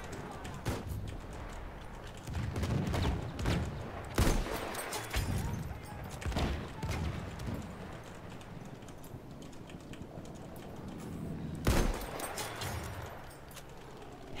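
Sniper rifle fire in Battlefield 1, several sharp cracks spaced seconds apart over battlefield din and distant gunfire, with someone talking between shots.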